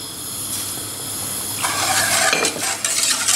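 Milk, cornstarch, vanilla flan powder and sugar are whisked in a pan on the stove, a quiet hiss that gives way to rapid, bright whisk scrapes against the pan.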